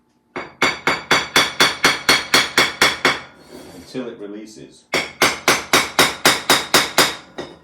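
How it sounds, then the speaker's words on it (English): A hammer gently taps fired pottery stuck to a kiln shelf: a fast, even run of about a dozen sharp knocks, a pause with someone talking, then another close, loud run of taps. "You hit it with a hammer very gently"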